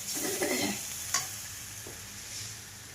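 A coconut and onion mixture being sautéed in a pan, with garlic cloves among the ingredients, gives a soft steady sizzle with scraping stir strokes and one sharp utensil tap, close and fairly quiet, no talking.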